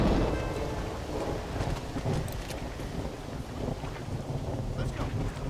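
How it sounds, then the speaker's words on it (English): Heavy rain pours steadily in the Red Dead Redemption video game, a dense, continuous hiss with gusty wind noise and occasional low rumbles throughout. "Why is it raining so bad?"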